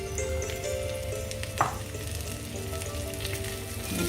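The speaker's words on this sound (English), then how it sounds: "So our mirepoix has been frying away." Chopped celery and carrots for a mirepoix for osso bucco fry steadily in a pan with whole spices, giving a constant close sizzle and one brief stir clack partway through.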